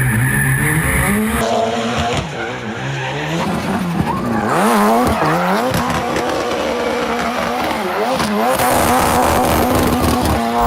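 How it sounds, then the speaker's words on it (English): Gymkhana car driven flat out with wheels spinning, a loud continuous engine roar with rising and falling revs and screeching tire squeal throughout, close and unbroken without talk. "I wanted to be full throttle, wheels spinning the entire time up and around and down"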